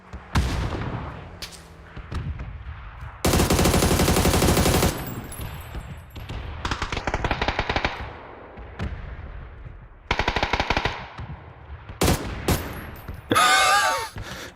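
Rapid bursts of automatic gunfire in the battle-royale shooter PUBG, several loud dense volleys separated by quieter gaps with scattered single shots, ending in a sharp final burst.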